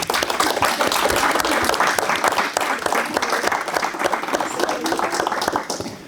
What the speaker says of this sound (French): et je pense qu'on peut les applaudir.